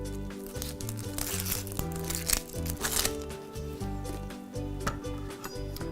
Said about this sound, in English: Only this time I'll cut off the root end and then I'll go ahead and peel it.